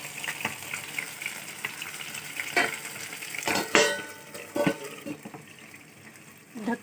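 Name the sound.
chicken frying with oil splattering in pan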